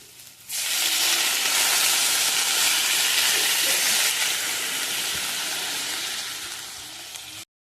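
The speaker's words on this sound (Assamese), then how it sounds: "এয়া ভাজা ভাজা হৈ গৈছে এতিয়া ইয়াতে পানী এড কৰিম" Water hits hot fried spice paste for a soybean curry, setting off a loud, steady sizzle and hiss that starts abruptly and holds for several seconds before slowly easing, with no talking.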